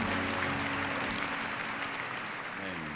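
A church congregation applauds God during an evangelical service, a dense, continuous wash of clapping with musical tones sustained underneath, loud and steady.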